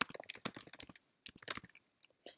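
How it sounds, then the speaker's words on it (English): Quick bursts of typing on a computer keyboard, clustered keystrokes with a short pause midway, then a few scattered taps, close and fairly quiet with no talking. "So now I can just simply start typing from there"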